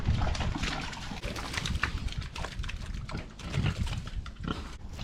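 Farm pigs grunting and snuffling close by, a busy stream of rough, irregular grunts and rustling with no break.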